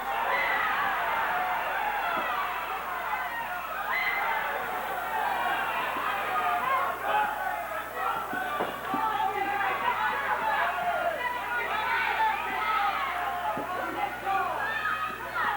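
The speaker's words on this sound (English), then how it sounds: "The crowd is really into this one. They're roaring with every punch that's even thrown, let alone landed." A crowd watching a pro boxing bout between Marty Maestas and Jacob Romero keeps up a loud, continuous roar and babble of shouts throughout, with voices in the stands mixing into the dense din.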